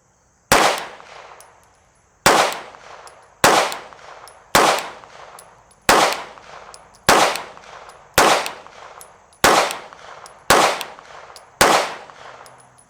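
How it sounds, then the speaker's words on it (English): Nine sharp pistol shots of 115 grain CCI Blazer ammunition fire one at a time at a target outdoors, each loud crack followed by a short decaying echo, spaced about a second apart. "We're going to shoot at the bottom left target."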